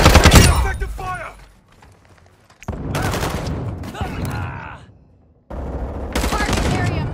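Gunfire in the video game Modern Warfare 2 comes in three loud bursts of rapid automatic fire, split by short quieter gaps with faint radio-style voices.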